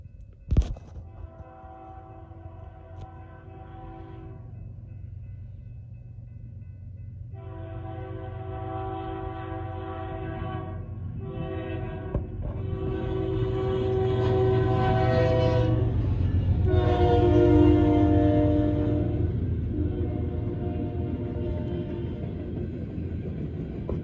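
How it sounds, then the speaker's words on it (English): A GE Evolution locomotive on a loaded BNSF coal train sounds its unusual horn in several long, loud, chord-like blasts with short gaps, over the steady heavy rumble of the passing train. "that is the most interesting Gevo horn I have ever heard on BNSF"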